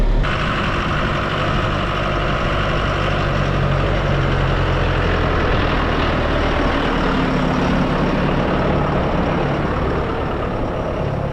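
A tractor engine idles while warming up before tedding hay, giving a loud, steady, low diesel rumble that holds unchanged throughout, close by, with no voices.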